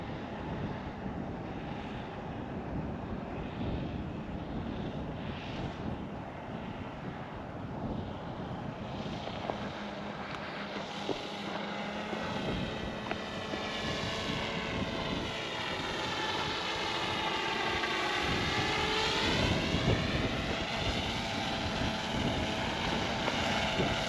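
A drone flying overhead near a big concrete lot, its steady engine drone and whine holding loud and continuous, rising and shifting in pitch as it passes, with wind buffeting the microphone and no talk.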